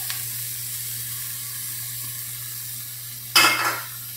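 Sliced zucchini and carrot sizzle in a pan, a steady low hiss that lasts throughout, then a sudden brief burst of louder sizzling near the end, as if the vegetables were stirred.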